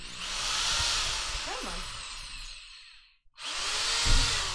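A power drill whirs loudly for a few seconds, stops briefly, then starts again; someone speaks a couple of words near the start.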